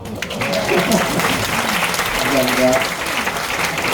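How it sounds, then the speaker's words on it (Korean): An audience at a lecture gives a student a round of applause, dense clapping that holds steady throughout while someone talks over it. "박수 한번 쳐주세요"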